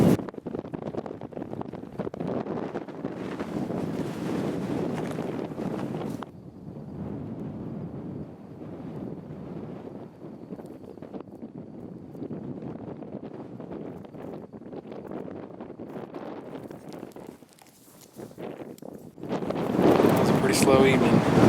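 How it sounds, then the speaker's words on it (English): Wind blowing across open Kansas prairie ground, a steady broadband roar and buffeting that fills the whole stretch and swells louder near the end, with talk heard over it at times. "Darn wind's going to make it tough."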